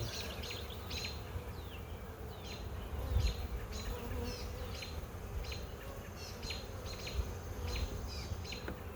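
Honey bees hum in a dense, continuous drone at an open hive of a queenless split. Sharper buzzes of individual bees flying close by come and go over the steady swarm sound.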